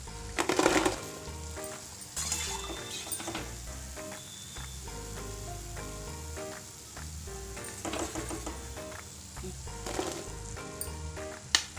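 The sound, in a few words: Drumstick-leaf mathari frying in oil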